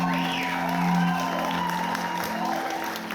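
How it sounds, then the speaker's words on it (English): Wedding guests in a barn venue clap and cheer together in a sustained round of applause, with whoops and voices mixed into the steady clatter of hands. "big round of applause"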